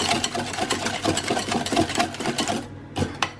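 Stevia being mixed into keto pumpkin bread batter made with pumpkin puree and coconut flour produces a steady, close, whirring motor drone with rapid rhythmic pulsing, stopping near the end and giving way to a few brief knocks.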